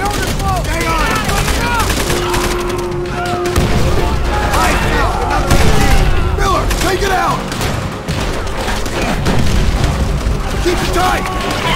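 Machine gun fire in Call of Duty: World at War, sustained bursts rattling against a loud battle mix of booms and shouted voices, continuous throughout.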